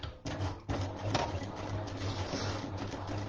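A sewing machine stitches a French seam in fabric for a garment, a steady mechanical whir with low rhythmic hum running continuously and fairly close, with no talk.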